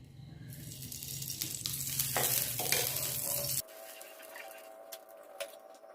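Ghee spread across a hot pan for a fasting-style dosa gives a close, steady sizzle with soft scraping strokes, then drops to a quieter hiss for the last couple of seconds.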